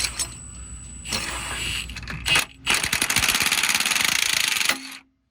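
A sway bar bolt on a Dodge Viper SRT-10 busted loose with a power impact tool: short bursts, then a sustained rattling hammer for about two seconds before stopping abruptly, loud and close.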